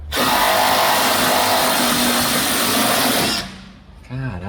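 A power tool with a socket attachment runs steadily for about three seconds while unscrewing parts on a Volkswagen Gol, loud and close, then winds down as a voice speaks briefly at the end.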